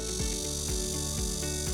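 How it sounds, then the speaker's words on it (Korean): Korean cicadas sing a continuous buzzing drone with rhythmic pulses about every half second, steady and fairly faint, with no voices. "이게 무슨 소리죠? 매미 소리네요."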